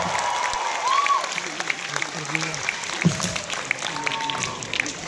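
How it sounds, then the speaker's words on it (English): Concert audience applauding and cheering for a tribute band performing live at a resort in Manila, a moderate clapping wash with scattered shouts and voices mixed in. "And let's hear it for Paul."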